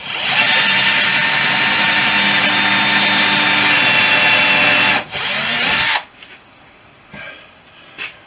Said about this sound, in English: I'm now going to back drill this hole.